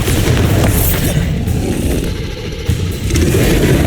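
A loud, booming Bombarda explosion spell goes off in the video game Hogwarts Legacy, heavy rumbling blasts with scraping debris and a dense low roar throughout.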